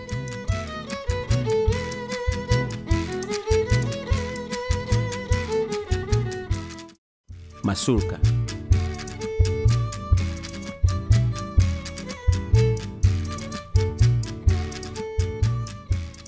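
A traditional Creole acoustic ensemble plays a lively, steady triple-meter pasillo with strummed strings and melody, briefly cutting to silence midway before resuming.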